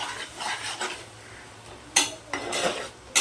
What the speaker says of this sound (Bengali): এবার এটা ভালোভাবে কষতে থাকি।